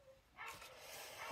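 A small dog barks and yips faintly in the background, a short burst of a couple of high barks within a quiet room.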